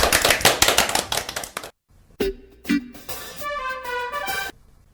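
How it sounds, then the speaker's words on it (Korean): A short burst of applause opens a Korean talk show, brisk clapping that cuts off abruptly, followed after a pause by a few thumps and a jingle-like musical sting. "박수!"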